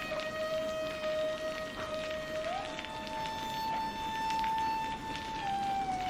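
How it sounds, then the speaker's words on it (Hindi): Steady rain falls over village lanes and a market, a continuous dense patter with a sustained tone running through it and no voices. "पर बारिश नहीं रुकी।"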